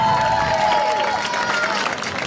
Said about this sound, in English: Warm round of applause for senior court member Michaela Long.